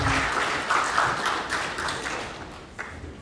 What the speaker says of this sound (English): Another round of applause, ladies and gentlemen, for Lotu Pule Mangaka